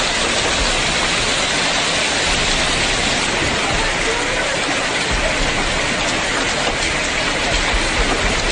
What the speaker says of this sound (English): the storm dumped over the 8 millimeters of rain in just 1 hour